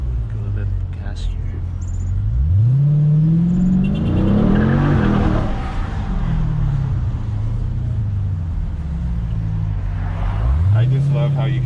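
A 2022 Dodge Challenger Scat Pack Widebody engine revs up in rising sweeps from inside the cabin, with a loud steady rumble and voices talking over it.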